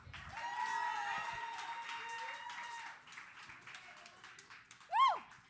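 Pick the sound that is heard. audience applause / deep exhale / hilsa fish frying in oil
audience applause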